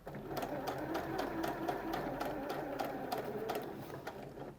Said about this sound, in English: I'm just going to stitch all the way up.